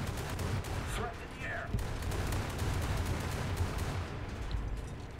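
Naval guns fire in War Thunder's ship combat as a dense, rumbling barrage of overlapping gunfire over a constant roar of battle noise.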